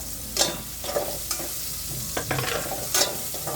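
Garlic frying until golden brown in a pan, with a steady close sizzle broken by several scraping stirs of a utensil, and no talk.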